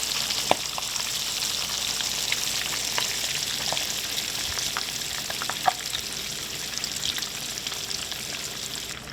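Fish sizzles and crackles steadily in piping hot oil in a pan, with a dense, continuous hiss broken by scattered sharper pops and spits, close and fairly loud with no talking.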